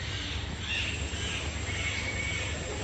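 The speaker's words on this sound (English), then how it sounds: "Meanwhile, what you hear right now is birds." Birds calling inside a zoo rainforest exhibit, raspy crow-like caws and chatter over a continuous hum of ambient noise, moderately distant, no talking.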